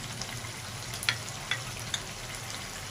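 Chicken karahi cooking with yogurt in a wok gives a steady close sizzle and crackle, with occasional sharper pops and spatters standing out over the continuous frying hiss.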